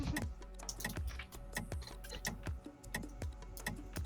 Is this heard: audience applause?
no